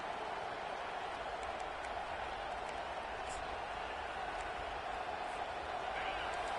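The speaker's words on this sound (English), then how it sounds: "Listen to this crowd just shaking the girders of this place, trying to help their defense." A distant, steady roar of a large stadium crowd cheering during a football game, filling a big open space, continuous and wash-like with no single voices standing out.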